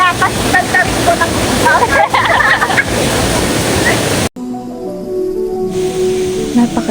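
Edralin Falls, a waterfall surrounded by trees, rushes with a loud, steady broadband roar while people talk over it, then the sound cuts to a quieter stretch with tonal ringing.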